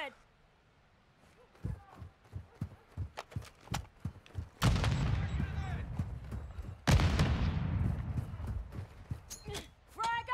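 Gunfire in Call of Duty Warzone 2, a run of evenly spaced single shots followed by loud sustained bursts, with a building nearby as the target and players talking over the shooting.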